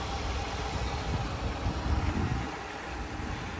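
A Toyota Venza's 3.5-litre engine idles with a steady low rumble and faint vibration, heard up close without speech.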